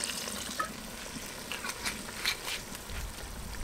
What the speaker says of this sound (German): Da kippen wir jetzt noch ein bisschen dran von dem guten Rotwein.